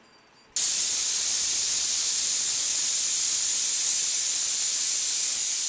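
After a brief quiet start, a pressure cooker whistle bursts out in a sudden loud, sustained hiss of steam that continues steadily.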